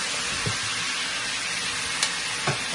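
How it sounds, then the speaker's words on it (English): Chopped ready-mix garlic sizzling in a hot pan at home, a steady broadband frying hiss throughout with a few soft clicks of stirring. "I put in the garlic and let it fry up good."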